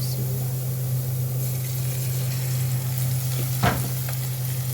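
Onions frying in oil in a pan: a steady, fairly loud sizzle over a constant low electrical hum, broken by one brief scrape of a utensil near the end.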